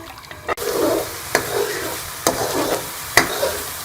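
Egg and semolina halwa cooking on high flame, stirred with a spoon that knocks and scrapes the pan about once a second, between bursts of thick bubbling sizzle, close up with no voices.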